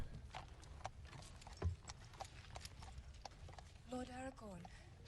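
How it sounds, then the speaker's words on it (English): Horse hooves clip-clop steadily in a fantasy film scene, a quick regular rhythm of hoofbeats on hard ground beneath talking voices, with a brief whinny near the end. "Let me help you off the horse here"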